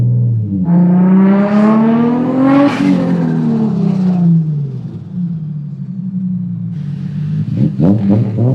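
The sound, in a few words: Nissan Nismo R34 GTR engine accelerating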